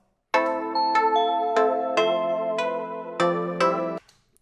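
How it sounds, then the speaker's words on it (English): Trap beat melody of plucked guitar-like notes layered with a bright chiming bell, a clean sequence of evenly spaced struck chords ringing for about four seconds before cutting off, with no voices. "Let me listen to it with the bell."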